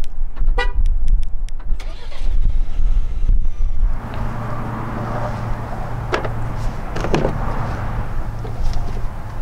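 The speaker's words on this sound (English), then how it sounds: "only the Ranger will have factory remote start" A 2019 Ford Ranger Lariat pickup started by factory remote start outdoors: a short horn toot, then the engine catches and settles into a low idle rumble under gusty wind noise.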